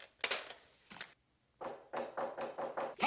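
Knocks land on a front door: a couple of separated thuds, a pause, then a quicker run of five or six raps, close and fairly crisp in a quiet room.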